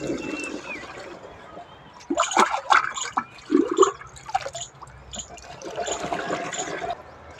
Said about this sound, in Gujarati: પહેલાં આપણે આમાં પાણી નાખવાનું